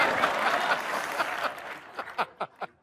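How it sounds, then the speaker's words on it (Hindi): Studio audience applauding to welcome a guest on a Hindi comedy show, a wash of crowd clapping that fades out into a few separate claps at the end. "तो जोरदार तालियों के साथ स्वागत कीजिए"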